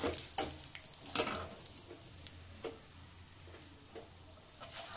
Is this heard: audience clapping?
no